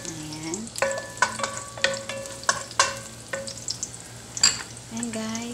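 Garlic sautéing in hot cooking oil, a soft steady sizzle broken by repeated clinks and scrapes of a utensil stirring in the pan, with brief bits of talk.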